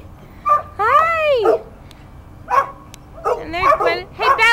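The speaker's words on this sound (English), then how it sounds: "you happy doggy" A happy dog whimpers, whines and yips up close in several short bursts with rising and falling pitch, separated by brief quiet pauses.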